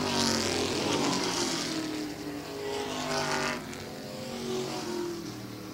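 Race cars roar around the oval at Airborne Speedway in Plattsburgh, New York, their engine noise swelling and fading as several pack passes sweep by, loud and close.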